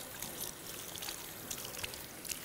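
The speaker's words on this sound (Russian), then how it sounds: "Для начала я смываю маску" Running water splashing and trickling as a hair mask is rinsed out of hair, a steady hiss with small irregular spatters, moderately close and without voices.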